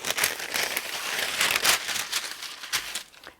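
Parchment paper being crinkled and handled near an iron, a close, steady crackly rustle with sharper bursts throughout, no talking.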